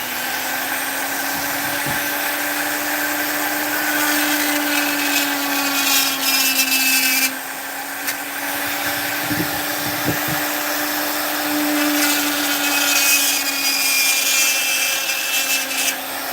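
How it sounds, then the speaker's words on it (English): A rotary tool fitted with a fine burr carves soft wood, its steady high motor whine running continuously with slight pitch shifts and brief dips as the burr bites and lifts. "this fine burr and this wood, the wood is just soft enough to where it is working beautifully"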